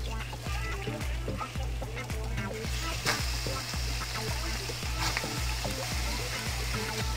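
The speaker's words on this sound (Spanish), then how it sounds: "prendemos nuestro sartén, aceite de oliva, agregamos nuestros camarones" Shrimp sizzling in olive oil in a hot pan, a steady frying hiss with a rhythmic low thumping running underneath.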